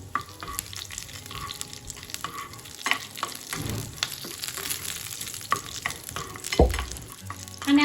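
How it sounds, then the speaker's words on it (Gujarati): Fresh curry leaves hit hot oil with dried red chillies for an idli chutney, setting off a busy, crackling sizzle with sharp pops and stirring scrapes throughout, and no voices. "ત્યાર પછી આપણે ફ્રેશ કઢી પત્તા એડ કરીશું."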